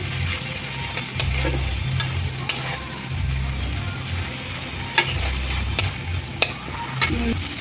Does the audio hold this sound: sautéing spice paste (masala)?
yes